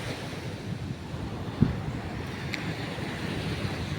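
Large sea waves breaking on a beach shore where fishermen work, a continuous low surf roar heavy with wind noise and one brief thump midway.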